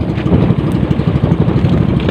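A fishing boat's engine runs at low throttle out at sea, a loud continuous rough chugging drone with no pauses and no voices.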